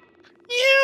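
A cat in the FNAF Into the Pit video game lets out a sudden, loud, tonal meow partway through, following a stretch of quieter muffled background sound.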